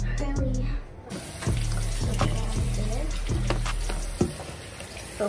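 Water runs from a bathroom tap while someone wets their face at the sink, a steady splashing stream with a few louder spatters and knocks, close by.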